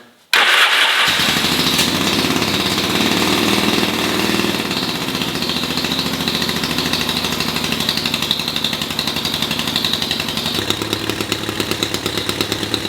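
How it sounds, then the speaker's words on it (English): A Yamaha XS650 motorcycle engine starts with choke on and settles into a loud, steady, close idle on both cylinders, with a rapid uneven putter running throughout and no talk. "Bike's running on both. It started up fine."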